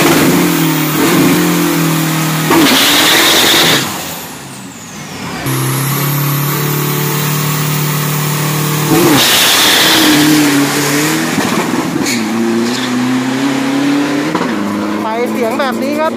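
A Chevrolet engine revs loudly and close, rising and falling in repeated surges with a rough exhaust growl, with voices in the background.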